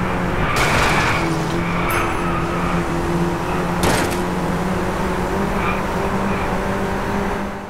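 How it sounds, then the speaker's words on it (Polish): A racing car's engine roars continuously at high revs in the game Driveclub, loud and close, with tire squeals and skidding, a couple of sharp impact bursts, and no music or talk. "Jedyne co słychać przez calutki kurwa czas to jest ryk silnika"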